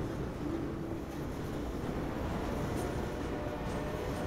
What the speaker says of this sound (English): There's a train, which is making everything shake.